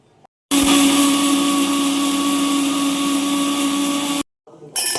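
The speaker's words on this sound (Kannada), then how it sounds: "ಈಗ ಇದನ್ನೆಲ್ಲ ನಾನು ಮಿಕ್ಸಿ ಜಾರ್ನ ಹಾಕ್ಕೊತೀನಿ" A small mixer grinder blends spices and herbs for pani puri water. It runs as a loud, steady, close motor whine for several seconds, stops abruptly, then restarts for a short burst.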